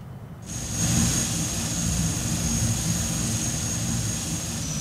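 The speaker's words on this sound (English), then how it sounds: "Here's the new aircraft." An aircraft arriving in the airport-management game Airport CEO, its engine a continuous low roar rising quickly then holding steady and loud throughout, with a thin high whine above and no voices.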